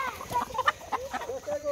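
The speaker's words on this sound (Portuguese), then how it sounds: "Duas galinhas bonitas." Two hens cluck near a rooster in a backyard flock, a quick series of short, choppy clucks and squawks close by, lively and irregular, with no voices over them.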